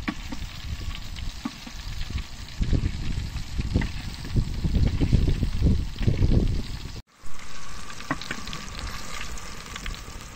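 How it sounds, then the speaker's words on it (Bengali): Food fries in hot oil in a pan, a dense crackling sizzle that swells and fades with stirring, close and loud, then briefly cuts out before the frying resumes. "ভাজা প্রায় হয়ে গেছে আলহামদুলিল্লাহ"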